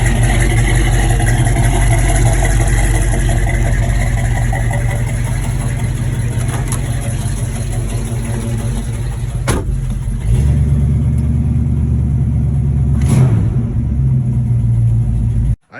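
A 1974 Pontiac GTO V8 with a rebuilt Quadrajet carburetor idles with a loud, steady, lumpy rumble, then briefly revs and settles back down before cutting off at the end.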